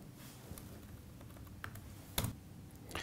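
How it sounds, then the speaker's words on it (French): Quiet, close keystrokes on a computer keyboard while a web address is typed, a soft run of light taps with a couple of sharper clicks near the end, heard alone. "je vais sur Internet, je tape www.méthode-merci.fr"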